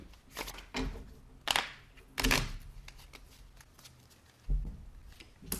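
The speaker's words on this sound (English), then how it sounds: "So 3 cards are dealt face down to everyone." Playing cards are dealt face down at a poker game, several crisp snapping and sliding bursts spaced a second or so apart, close and clear, with faint room noise between.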